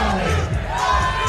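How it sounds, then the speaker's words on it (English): A home crowd roars and cheers loudly and continuously at a cornhole tournament, a dense wall of voices with whoops rising above it. "Just listen to the crowd."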